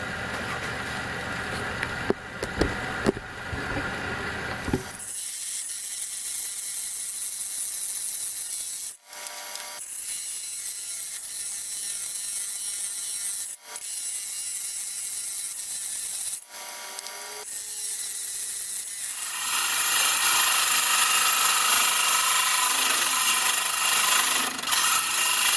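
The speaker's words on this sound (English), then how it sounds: "So this is a oil lubricated saw" Oil-lubricated lapidary saw cutting black banded agate, a steady loud grinding, rasping hiss that pauses briefly a few times and swells louder near the end, with no voices.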